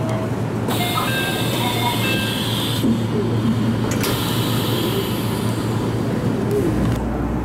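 An Iida Line train running beside the Hiraoka Dam reservoir, a steady loud rumble of wheels and motor with a constant hum, faint rhythmic clatter and a few higher whines, continuous with no speech.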